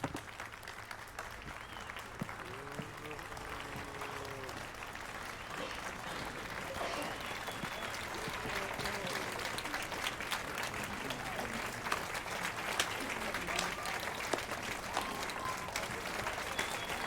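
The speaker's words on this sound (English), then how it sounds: "Clap, clap, clap, clap, clap." Sustained applause from an audience at a live music performance, steady and fairly distant, with a faint crowd murmur running underneath throughout.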